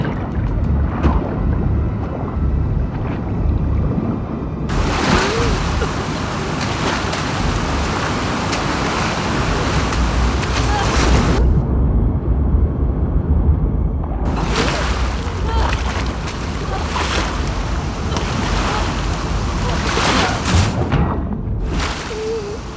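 Water and waves in The Last of Us Part 2 video game, a continuous splashing wash with bursts of louder, broader surging and some wind-like noise, under occasional speech.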